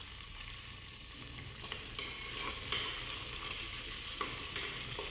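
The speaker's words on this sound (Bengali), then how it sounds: "এবার পেঁয়াজগুলো দিয়ে দেবো আমি।" Onions fry in a pan with cinnamon, cloves and cardamom, giving a steady close sizzle with occasional scraping stirs throughout and no talking.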